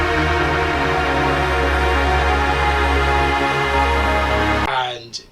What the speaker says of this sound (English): Psytrance sounds a bit like this.